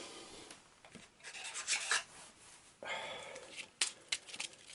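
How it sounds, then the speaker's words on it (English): Arkham Horror game cards shuffled quickly by hand at a tabletop, with papery rubbing and riffling in short bursts, close and fairly quiet, and no voices. "Quick shuffle."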